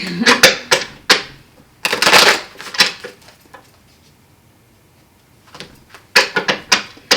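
Bursts of crisp riffling and snapping tarot cards, shuffled in quick rounds separated by a quiet pause, close up, with a voice speaking at points.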